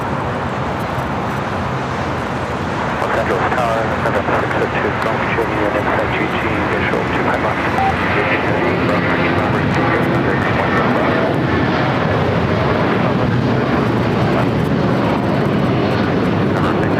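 A C-17 military jet takes off at LAX with a continuous, loud engine roar that swells and stays heavy throughout, a voice talking over the noise.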